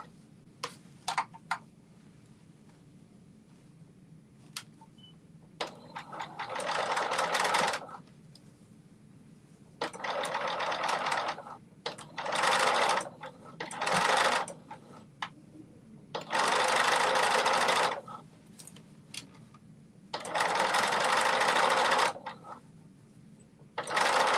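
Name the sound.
sewing machine sewing a straight stitch slowly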